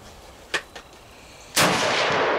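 Two faint shots from other shooters, then one loud, close report from a Lee-Enfield No.1 Mk III SMLE Ishapore .303 rifle at about 1.6 s, ringing out with a long decaying tail outdoors.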